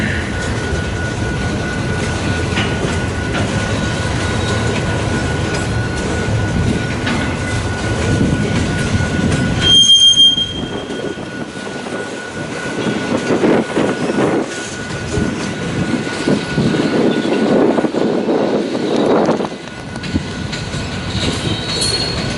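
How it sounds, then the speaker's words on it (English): A westbound freight train of loaded autoracks rolls past in Fremont, Nebraska. It is loud and close, with a continuous rumble, rhythmic wheel clatter and a sustained high squeal from the wheels, while wind noise buffets the recording. "I'm sorry, this train's continuing west."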